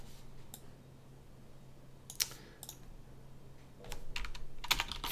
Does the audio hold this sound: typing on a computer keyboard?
yes